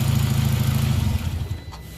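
A VW Jetta Mk4 diesel idles with a close, loud, rhythmic low clatter that drops off sharply partway through, leaving a quieter fading rumble.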